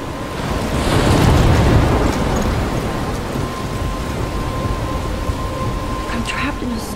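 Thunderstorm with heavy rain in the video game Life Is Strange: a broad rumbling roar of thunder swells early, then a steady wash of rain continues, with a person talking over it.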